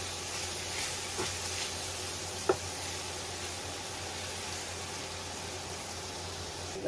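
Onions frying in a pan for a crustless quiche, a steady soft sizzle with a couple of faint clicks from mixing, close and quiet with no voices.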